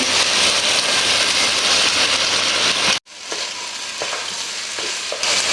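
Washed rice and lentils tipped into a hot pan of frying meat and spices for khichuri, a loud steady sizzle broken by a brief drop near the middle, then stirring scrapes and crackles.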